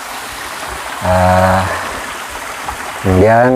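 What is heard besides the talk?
waterfall Curug Cihangasa flowing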